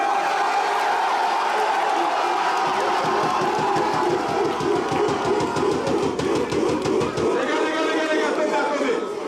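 Supporters of an under-18 football squad clap in a fast, steady rhythm for several seconds amid loud crowd chatter and cheering nearby, then the clapping breaks up into shouts and talk.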